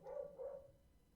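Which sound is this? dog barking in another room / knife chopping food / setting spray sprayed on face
dog barking in another room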